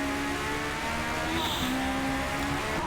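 A 1960s Lotus Formula 1 car in the Forza Motorsport racing game drives Laguna Seca on worn tyres into a corner, its engine a loud, steady high-pitched drone with shifting pitch and no pauses.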